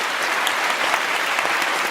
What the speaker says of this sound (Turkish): kuvvetli alkış daha istiyorum kendilerine